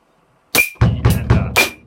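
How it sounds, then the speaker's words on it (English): Drum kit groove opening with a single crisp hi-hat hit, followed by kick drum strokes on the E and with more hi-hat accents, a short punchy pattern played close and loud without voices. "so it'll start with 1 hi-hat note, and then you have E and on the kick drum"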